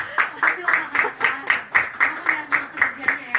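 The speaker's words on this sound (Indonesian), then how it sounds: "Tepuk tangan dulu dong" Hands clap in a steady, even rhythm, about three claps per second, close and clear during an Instagram live stream, with faint voices in the background.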